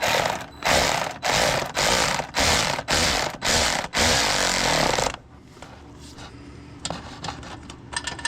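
Ratchet wrench tightening downpipe bolts on a VW VR6 24v EuroVan, a run of loud, rapid clicking bursts with short pauses, then quieter scattered clicks and handling noises.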